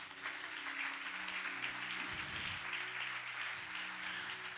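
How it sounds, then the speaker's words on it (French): Steady, even applause from a congregation at a Sunday church service fills the space throughout, faint and continuous, with a low sustained organ-like tone underneath and no speech. "Est-ce que tu peux acclamer pour toi-même?"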